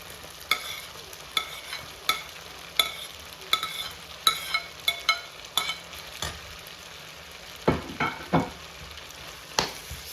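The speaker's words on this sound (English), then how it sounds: "Stir to combine." Fried rice with prawns and curry being stirred in a hot pan: repeated scraping strokes of a spatula at an irregular rhythm over a steady sizzle, close and fairly loud, with no talking.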